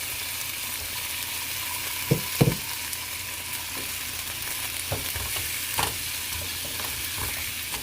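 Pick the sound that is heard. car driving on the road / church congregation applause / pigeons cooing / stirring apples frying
stirring apples frying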